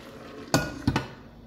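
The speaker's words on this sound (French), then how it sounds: "Bouger un peu le légume, rien ne colle, c'est parfait." Vegetables stirred in a tajine, two close, quick clacks of a utensil against the pot over a low steady background, with no voices.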